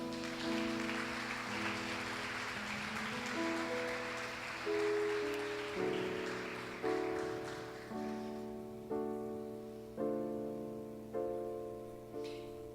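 A church congregation applauding during a Sunday service, a dense, steady clatter of clapping mixed with sustained organ or keyboard chords that change in regular steps.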